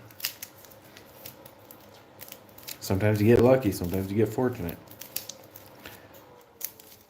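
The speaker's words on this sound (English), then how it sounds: "All right, that's a good enough shuffle." A deck of playing cards shuffled close by in a tabletop game, a brief dense riffling burst lasting about two seconds while a person talks over it.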